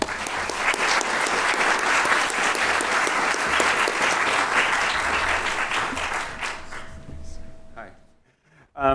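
An audience claps and cheers loudly to welcome a speaker to OSU, sustained applause that fades out near the end, followed by a brief voice.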